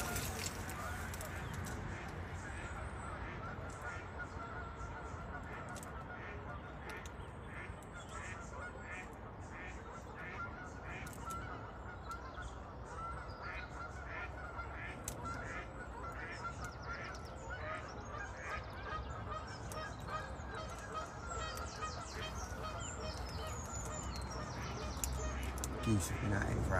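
Geese at a lake honk repeatedly in a rough, overlapping chorus, from moderately near and spread across the whole stretch, over a low outdoor background with a person speaking.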